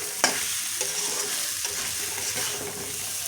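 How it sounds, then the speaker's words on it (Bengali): Fish coated in masala stirred and fried in a pan for a fish curry, a steady close sizzle with scraping spatula strokes throughout, no voices. "মাছটায় সুন্দর করে মশলাটা লাগিয়ে নেব, নাড়িয়ে চাড়িয়ে।"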